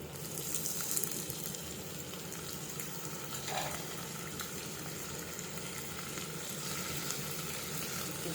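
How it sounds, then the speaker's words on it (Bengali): Dried ribbonfish frying with onions in a pan for churi shutki bhuna, giving a steady, fairly quiet sizzle with a few soft clinks of stirring throughout. "এখন শুটকিটাকে আমি পেঁয়াজের সাথে ভাজবো কিছুক্ষণ"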